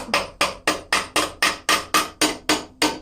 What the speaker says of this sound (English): Just hammering it around a bit.